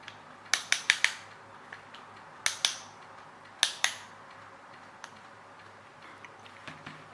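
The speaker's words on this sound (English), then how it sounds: "that's the ratchet effect that grips on the inside of that one" Sharp, quiet clicks from the ratchet gripping inside a Greendale Rocket part, heard as a few isolated ticks and quick double clicks spread irregularly, with no voice over them.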